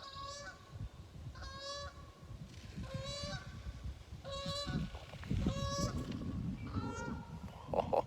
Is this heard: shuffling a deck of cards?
no